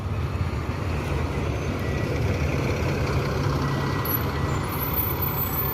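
A large bus engine rumbles steadily nearby as the bus arrives at a bus terminal amid busy roadway noise, with a faint high beep near the end.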